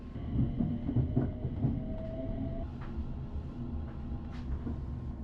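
Low rumble of a ScotRail train idling at a station, with faint metallic squeaks and a brief whine, steady throughout and no voices.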